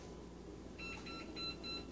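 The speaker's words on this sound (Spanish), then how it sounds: "Esa es la alarma, se la oyen pitando." Electronic security alarm at a Walmart store giving repeated short high-pitched beeps in the second half, faint over steady store background noise.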